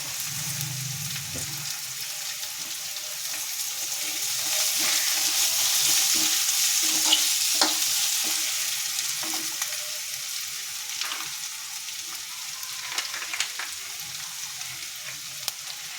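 Capsicum for mushroom Manchurian sautés in a pan with a continuous soft frying hiss, punctuated by light scraping and tapping as it is stirred.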